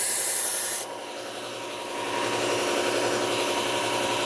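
A Victorinox knife blade is drawn across worn P120 sandpaper, giving a soft, continuous abrasive rubbing that drops slightly partway through, then steadies. The scraping is quiet and close, with no voices.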